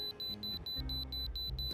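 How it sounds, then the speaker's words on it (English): A warning beep from a truck in American Truck Simulator sounds as a fast series of about eleven short, high, evenly spaced electronic pips, steady and clear over a low engine drone. "As soon as I heard that beep"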